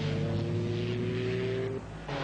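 An Alpine A310 race car drives on an Ardennes circuit, its engine a loud, steady droning roar with a rising tone, briefly dipping before surging back.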